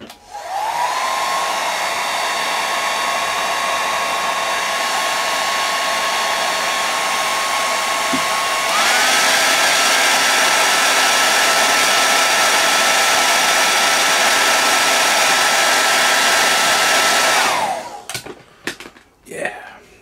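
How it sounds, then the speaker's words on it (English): A hairdryer blows steadily on a freshly painted Warhammer Ultramarines Space Marine miniature, a loud continuous whine that steps up to a higher setting partway through, then cuts off near the end with brief clatter. "I might just get the hairdryer on that a little bit"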